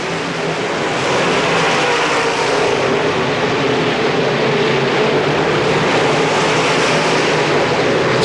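Race cars roar around a short oval racetrack in a steady, loud, continuous engine drone that swells slightly and never lets up.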